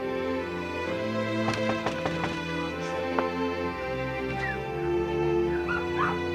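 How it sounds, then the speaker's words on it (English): Several dogs bark in short bursts and whimper excitedly, with yips and whines scattered over a steady background hum, fairly close. "Those dogs are really excited to see us."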